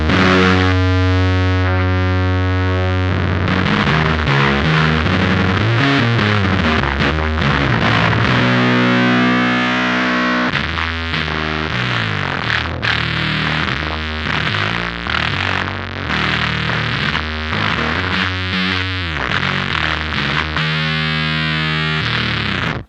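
Heavily distorted bass guitar through a guitar amplifier with gain around half, thick and buzzy, playing sustained notes and riffs continuously for over twenty seconds with no voices.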